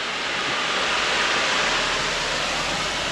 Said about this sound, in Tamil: செமையாக ஃபால்ஸ் மாதிரி ஊற்றுது